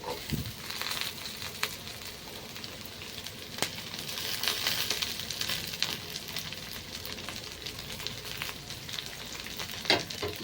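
Beans fry in a pan for fried rice, a constant moderate sizzle with light crackles and a few sharp stirring clacks, near and without speech.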